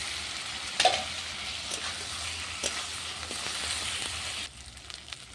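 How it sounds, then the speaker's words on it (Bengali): Tomato and green chili stirred in a pan of sizzling oil for a fish curry over a clay stove: a steady soft frying hiss with a few scraping stirs and a sharp clink early on, alone and fairly quiet. "এটা একটু নেড়ে দেবো।"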